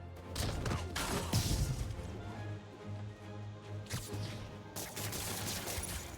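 Gunfire in the Marvel's Spider-Man Remastered video game, a dense fusillade of rapid shots and crashing impacts under a steady game soundtrack, loud and continuous with a brief lull partway through.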